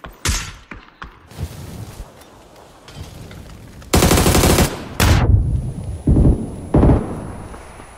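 Bursts of gunfire from wild, indiscriminate shooting in a gunfight: rapid machine-gun-like volleys and sharp shots, some loud and close, with shorter cracks in between.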